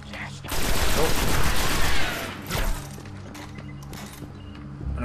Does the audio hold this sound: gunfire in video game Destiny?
yes